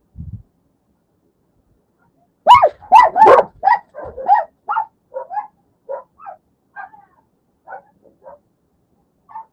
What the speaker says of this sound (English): The dog's still barking.